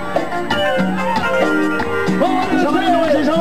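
An Uruguayan tropical cumbia song plays steadily, with a melodic vocal line over a rhythmic band backing.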